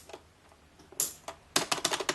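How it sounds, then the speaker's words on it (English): A few sharp plastic clicks spaced apart, followed by a quick run of several snapping clicks close by, as arcade buttons clip into a Mayflash arcade stick; no talking. "sticking each of the buttons in, as so. You should just clip in."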